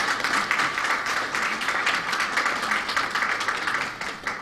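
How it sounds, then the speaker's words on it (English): Sustained applause from an audience at the launch of an education programme in Belize, dense and even clapping from many people throughout, with no talk over it. "Let's give her another round of applause."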